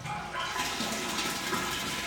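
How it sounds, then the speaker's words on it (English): Water draining out of a column during a hydrostatic pressure bleeding and measuring setup, a steady close rushing and gurgling flow that holds at an even level throughout without pauses. "You can hear it draining now"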